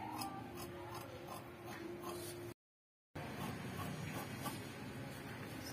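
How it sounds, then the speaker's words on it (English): Scissors cut fabric along a dart leg for a six-panel gown with a breast cut, a steady close rasping snip with a short break partway through, quiet and with no talk. "I'm cutting out the dart leg now."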